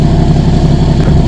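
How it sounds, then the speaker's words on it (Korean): A Porsche with newly replaced spark plugs sends out a loud, steady exhaust rumble, running continuously at close range. "스파크 플러그를 바꾼 후에 지금 배기 소음입니다"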